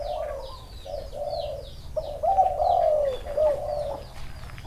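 Several rhythmic cooing phrases from a spotted dove, fairly close and clear, with fainter chirps and bird calls scattered in the background.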